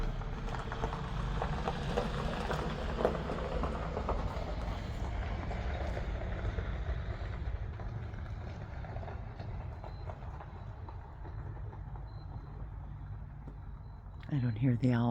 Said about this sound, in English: Oh, that's the mail truck.